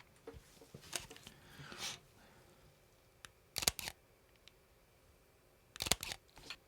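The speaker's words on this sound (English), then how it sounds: "This one's probably my favorite shutter though." A camera shutter fires in sharp, close clicks, a couple of spaced single snaps followed by a quick double click, with light handling rustle in between.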